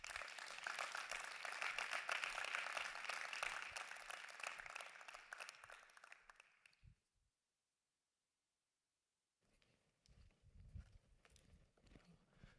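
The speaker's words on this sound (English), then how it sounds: "please join me to give a warm applause to these guys for what they have achieved so far." Warm applause for the EPFL Racing Team at its 2021 car rollout, a dense round of clapping from a gathered crowd that fades out after about seven seconds, followed by silence and then faint low rustling and movement.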